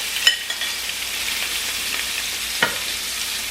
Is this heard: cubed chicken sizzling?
yes